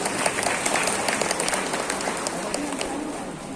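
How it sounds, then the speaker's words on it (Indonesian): Audience applause at a university event for graduating students, loud sustained clapping from a large crowd filling the whole stretch, with faint voices mixed in. "Tepuk tangan untuk Unisri."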